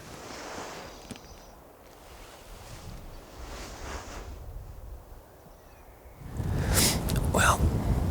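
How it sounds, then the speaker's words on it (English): Wind rising after sunset during an autumn elk hunt in Montana, a steady low rush of gusts buffeting the microphone that grows louder and rougher toward the end. "The wind has picked up."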